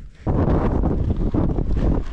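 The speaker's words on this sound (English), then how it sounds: "It's a bit windy today, isn't it?" Steady, loud wind roars and buffets the microphone on Stanage Edge in the Peak District, a continuous broadband rush with gusty surges and no voices.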